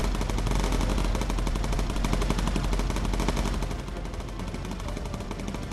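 Continuous rapid machine gun fire from a WWII bomber's gunners downing enemy planes in Bomber Crew, a loud unbroken rattle that eases slightly in the final seconds over constant engine noise.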